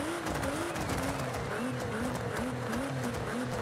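Nissan GT-R exhaust in a racing video game, a continuous engine note that rises and falls in repeated revving sweeps, with a steady, close, droning tone throughout.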